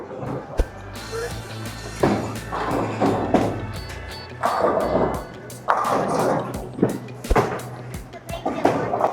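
A bowling ball rolls down the lane and crashes into the pins at a Team USA trials tournament, with repeated sharp thuds and clattering among rolling rumble and a busy alley background.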